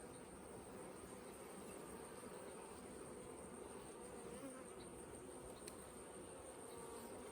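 Honey bees buzz steadily around an open hive during a late November inspection in South Alabama, a dense continuous drone that stays close and even throughout.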